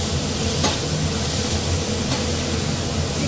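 Tomatoes with salt fry on a low flame, a steady broadband sizzle that stays even and close throughout, with a faint stir or scrape and no talking.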